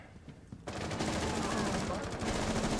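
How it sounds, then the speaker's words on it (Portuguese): Gunfire in Rainbow Six Siege bursts in abruptly after a brief quiet moment and continues as a loud, dense, rapid stream of shots to the end. "eu dei um headshot na Frost"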